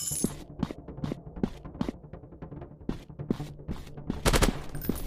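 Shots ring out in a counter-terrorist first-person shooter game, firing at an uneven rhythm of single cracks and short bursts, moderately loud, with a brief flurry near the end.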